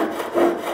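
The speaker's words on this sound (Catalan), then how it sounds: "Jo serraré un trosset" Jeweller's saw cutting a small piece of metal at a jewellery workbench, a brief close rasping stroke with a slight push-pull rhythm lasting under a second.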